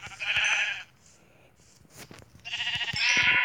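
Sheep bleating in the Minecraft video game: two loud, close bleats with a quiet gap between them, heard alone without talk.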